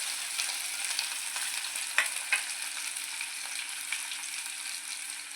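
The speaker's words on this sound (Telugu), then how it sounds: "ఇప్పుడైతే కొంచెం బ్రౌన్ కలర్ వచ్చే వరకు వేయించుకోవాలి" Onions and peanuts frying in oil in a pan for jowar upma, a steady soft sizzle with occasional stirring scrapes and clicks, close up with no voices.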